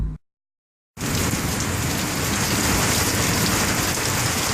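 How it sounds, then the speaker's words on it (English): Heavy rain pours down steadily during a flash flood, a dense, loud, continuous roar of drops on surfaces that starts abruptly after a brief silence and continues without a break. "it is raining like crazy"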